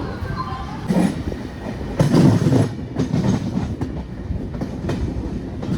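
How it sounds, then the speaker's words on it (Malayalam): The Kozhikode Jan Shatabdi express, running with LHB coaches, rolls into Aluva station with a steady rumbling roll and irregular clacks of wheels over rail joints, heard up close from on board. "നമ്മളിത് ആലുവ സ്റ്റേഷനിൽ വന്ന് കയറിക്കൊണ്ടിരിക്കുക കേട്ടോ"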